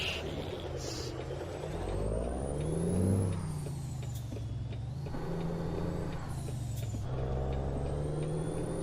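Air brakes on a truck in American Truck Simulator hiss in a few sharp bursts over a steady engine drone and cabin hum, fairly close and clear.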